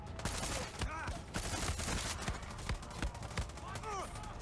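Rapid gunfire crackles in fast bursts during a Far Cry 6 firefight, the shots repeating steadily over a busy background with a voice talking over parts of it.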